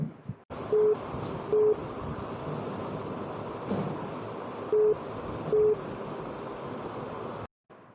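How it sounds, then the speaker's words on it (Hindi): An incoming telephone call rings as two pairs of short, even electronic tones separated by a few seconds, heard fairly clearly over a constant rushing background hiss with no talking. "मिथिलेश जी हमको फोन कर रहे हैं"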